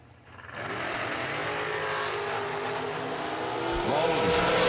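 Two heads-up drag race cars at a bracket race roar off the line, engines rising in pitch as they accelerate, loud and growing louder, with harmonic whine sweeping up near the end.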